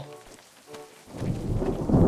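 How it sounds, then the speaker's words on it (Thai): Thunder and rain in the survival game Unturned: after a quiet start, a deep rolling rumble swells up and grows louder under a wash of rain. "เสียงฟ้าผ่านในเกม"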